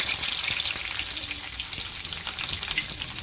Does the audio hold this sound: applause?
no